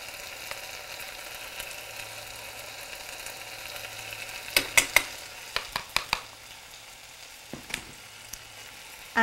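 Dry spices, cayenne pepper powder, cumin and garam masala, frying and being stirred in a pan while cooking an Indian dish: a steady soft sizzle with a cluster of sharp scraping clicks from the spoon, then a few more later.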